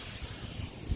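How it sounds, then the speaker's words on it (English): Aerosol rust protection spray hissing steadily onto a grill under an outdoor carport on a windy day, a continuous broadband spray close by with low wind rumble beneath. "I'll spray the whole damn grill with this stuff, and it helps combat rust"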